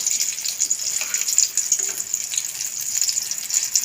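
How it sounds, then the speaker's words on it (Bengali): Pumpkin pakora frying on a low flame, a steady soft sizzle and hiss of oil that runs unbroken throughout, close and even with no voices. "লো ফ্লেমে করে ভাজবো নিয়ে নেবো কুমড়িগুলোকে"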